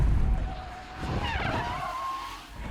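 A car drifting with the handbrake pulled, tyres squealing in a rising and falling skid over a steady engine drone, heard close for a few seconds.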